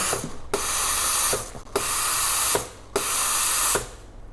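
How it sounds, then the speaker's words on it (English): Steam wand on a Sage Oracle espresso machine purging automatically after frothing milk, giving loud, sharp bursts of hissing steam, about four in a row with brief gaps between them, close by. "place that back down and it will purge automatically"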